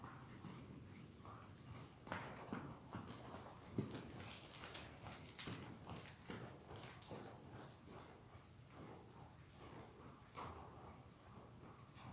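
Horse hooves jogging around an arena, a soft irregular clip-clop rhythm at moderate distance over a steady background, with faint other animal sounds.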